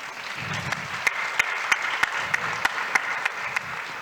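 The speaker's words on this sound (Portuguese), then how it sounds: "Palmas" Audience applause at an evening session of a national conference on comfort in a hall as a judging panel professor is called to the stage, steady clapping with a few louder individual claps standing out, no talk over it.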